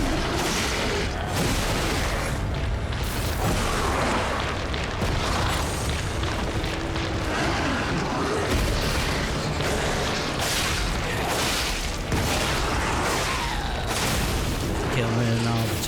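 Turrets fire and explode in Lies of P, a dense, continuous barrage of loud booms and bursts with a voice talking over the din.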